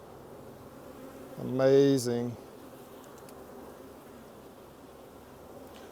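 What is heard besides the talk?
honeybees buzzing around hive frames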